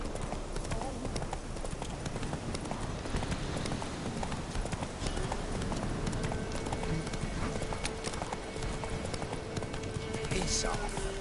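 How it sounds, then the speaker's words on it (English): Horse hooves from The Witcher 3 gallop in a steady, dense clip-clop rhythm that stays loud and continuous throughout, with a short neigh near the end and game ambience underneath. "Run, Roach."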